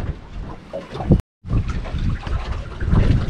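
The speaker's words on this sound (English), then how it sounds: "The wind's still blowing a bit" Wind gusts buffet the microphone outdoors by the water, a rough, uneven rush with a brief dropout partway through.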